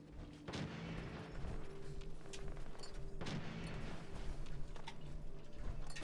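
Gunfire in Fallout 4, heard as two sharp distant-sounding shots a few seconds apart over a steady low background drone, fairly quiet overall.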